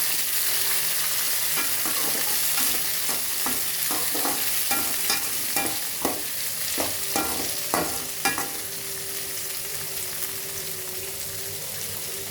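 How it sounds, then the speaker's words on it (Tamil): Tomatoes stirred and frying in a pan for a Tamil mavaththal kulambu, a steady sizzle under repeated scraping strokes of a spoon, close and moderately loud, with no talking. "இப்போ தக்காளி ஆட் பண்ணிடலாம். நல்லா கிண்டி விடணும்."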